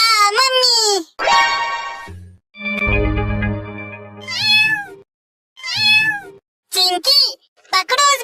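A small, sick cat meows repeatedly in sharp, rising and falling cries at close range, with short pauses between calls and someone talking in between.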